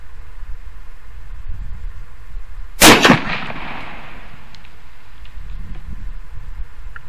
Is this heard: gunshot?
yes